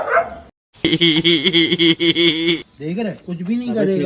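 A dog barks and yips loudly and close by on a farm, several bursts one after another, while people talk over it.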